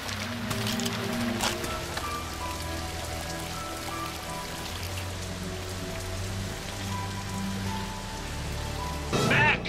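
Steady, dense rain pours across a scene at the ruined ZIL factory in the Russian superhero film Guardians (Zashchitniki), with a low sustained musical drone beneath it and a louder splash of rain near the end.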